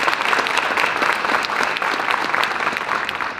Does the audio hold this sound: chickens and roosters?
no